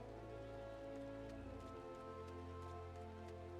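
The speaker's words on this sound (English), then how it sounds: "It's raining." Soft, steady rain falls in the Final Fantasy XIV game world around Gridania, a faint constant patter layered over low sustained musical tones, with no voices.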